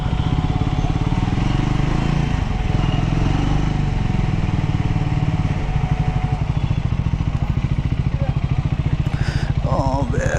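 A Triumph Scrambler 400 X engine runs close up with a steady, throbbing motorcycle drone that holds loud throughout, overlaid by wind and road noise, with a brief rattle near the end.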